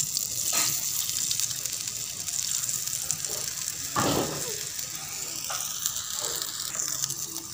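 Barley flour paratha sizzling in ghee on a hot tawa, a close, steady frying hiss broken by a few sharper bursts of crackling.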